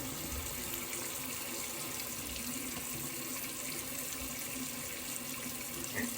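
Tap water runs steadily into a sink while shaving soap is rinsed off, a close, continuous splashing hiss with no pauses.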